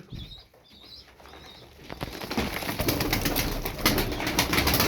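Pigeons flying out of a coop, soft coos at first and then a rising rush of flapping wings that grows louder and busier, close by, with no talk.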